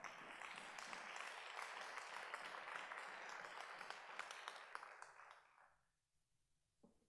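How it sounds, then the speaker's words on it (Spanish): Congregation applause at a church teaching service, a sustained wash of clapping that holds for about five seconds before fading away, followed by a brief faint sound at the end. "Denle un fuerte aplauso al Señor"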